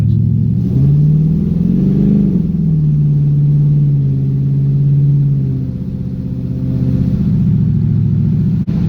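An LS-swapped 1979 Pontiac Firebird Formula with a 4L60E automatic transmission is being driven. Its loud, steady engine drone swells briefly early on, then holds a constant low rumble throughout.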